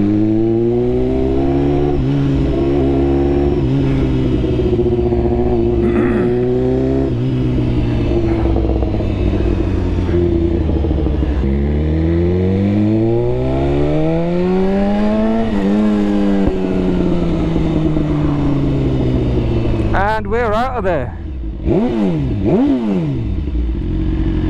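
Several motorcycles on a bank holiday group ride rev loudly and pull away together, engines rising and falling in overlapping sweeps with steady rumbling throughout, close and loud with no talk.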